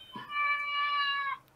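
A cat lets out a single drawn-out meow lasting about a second, close and fairly clear, with no one talking over it.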